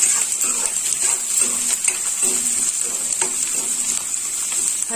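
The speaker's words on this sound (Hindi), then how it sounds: "प्याज डाल देंगे, इसको हम अच्छे से भून लेंगे।" Onions fry in a pan for vegetable rava upma, a close, steady sizzle broken by soft scraping stir strokes, with a thin high whine held above the crackle throughout.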